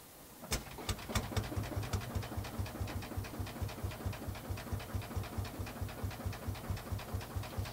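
Single-cylinder diesel Ursus tractor in Farming Simulator 2013 starts up and settles into a steady, fast thumping idle, each beat sharp and evenly spaced, close and alone.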